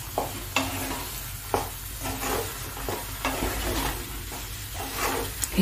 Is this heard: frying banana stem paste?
yes